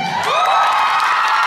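A crowd at an a cappella Christmas show in Seodaemun lets out a loud, brief burst of cheering and high whoops, sustained for a moment with no talking over it.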